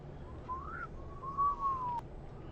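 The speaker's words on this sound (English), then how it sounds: "That was a good whistle." A person whistles in a World of Warcraft session, one rising note and then a longer gliding tone that falls away, clear but moderate over a quiet background hum.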